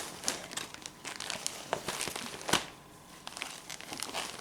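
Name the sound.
package being opened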